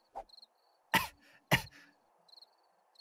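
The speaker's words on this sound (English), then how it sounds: "All right, now cough." Coughs from a character in the zombie survival game 7 Days to Die: a faint first cough, then two sharp, loud coughs about half a second apart, with soft chirping between them.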